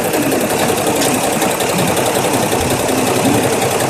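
An embroidery machine stitches a large logo onto a garment at about 650 stitches a minute, making a steady, loud, fast mechanical rattle that runs continuously and close up with no pause.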